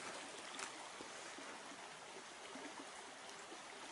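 Water trickles steadily through a small tributary of Wombat Creek, a close, even wash of running water with no breaks and no voices.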